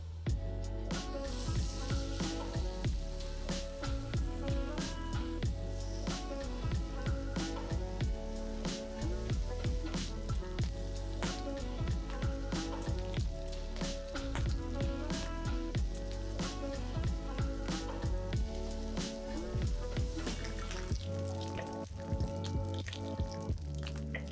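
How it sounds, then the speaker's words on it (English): Bacon frying in a pan gives a continuous, dense sizzle and spatter close by. The fine popping crackle runs unbroken through the whole stretch, with no voices. "we continue by cooking the bacon"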